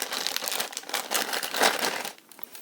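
A thin plastic bag crinkles and rustles while a product is unpacked from its packaging, a close, busy run of crackling handling that stops near the end.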